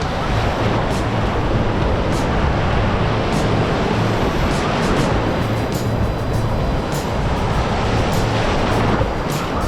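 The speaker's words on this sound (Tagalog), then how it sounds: "Grabe, ang lakas ng alon." Heavy surf roars continuously at Paniman Beach, a dense wash of crashing waves with gusty wind buffeting the microphone throughout.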